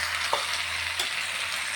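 Tomatoes frying in a pan for egg curry with drumstick leaves, a steady close sizzle with a couple of brief stirring clicks and no talking.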